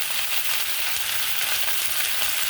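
Winter vegetables frying in a pan give off a steady, dense sizzle that holds evenly throughout, close and fairly loud with no talking.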